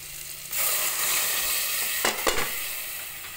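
Mung beans tipped into a hot pot with meat for a rainy-day mongo stew, setting off a loud, steady sizzle and frying hiss, with two sharp stirring scrapes near the end.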